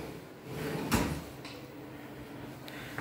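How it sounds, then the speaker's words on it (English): A soft-close bathroom drawer in a small urban apartment shuts once, making a brief muffled thud near the start and then settling quietly, with faint light knocks after it against low room tone. "Got your soft closed drawers."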